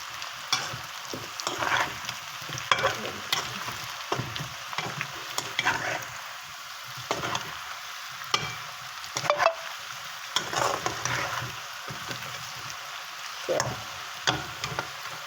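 Eggplant slices sizzle steadily in a hot pan, with occasional clinks and scrapes of a spatula stirring and turning them.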